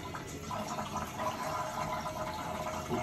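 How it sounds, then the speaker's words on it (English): Water runs continuously from a broken toilet flush, a soft, steady trickling and hissing flow indoors that goes on without pause and with no one speaking. "the water doesn't stop and I don't know how to stop it"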